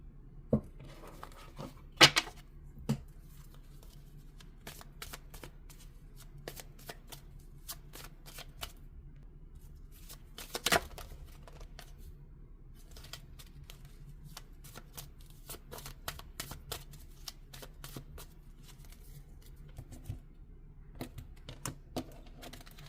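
A deck of tarot cards is shuffled by hand in a quiet room, with repeated crisp riffles and sharp card snaps scattered across a long stretch, no speech.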